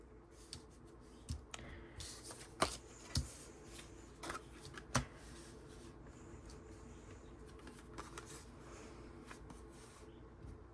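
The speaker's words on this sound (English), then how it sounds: "I'm going to mess up my cards a little, guys." Tarot cards being mixed by hand during a reading, heard as soft, scattered rustles and a few sharper flicks and taps over a quiet background, with no talking.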